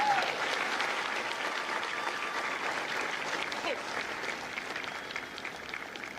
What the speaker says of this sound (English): Please join me in a round of applause for the company staff of India Company.